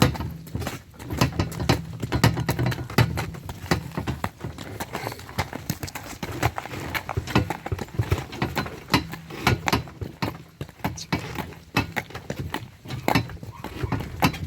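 A mare's hooves clip-clop in a steady rhythm while a cart hauling manure rattles and creaks along behind, close by and continuous.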